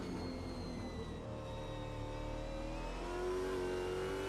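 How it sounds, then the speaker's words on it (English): A race car engine revs on board at Mount Panorama, a loud sustained whine with pitch climbing and shifting as it balances through corners, close and continuous with no talk. "You can hear how much he's having to balance the car on the precipice of grip"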